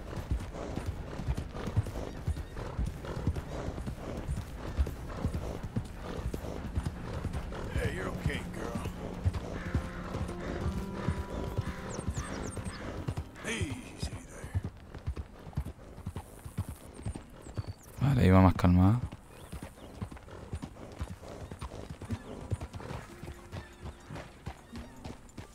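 A tiring horse gallops in Red Dead Redemption 2 with steady rhythmic clip-clop hoofbeats throughout, one louder burst near the end, and a person talking over the game sound.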